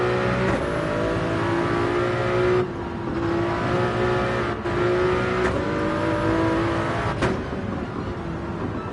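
Race cars in a racing video game at Barcelona drone and rev continuously at close range, with engine pitch climbing and dropping through gear shifts and brief dips as cars pass.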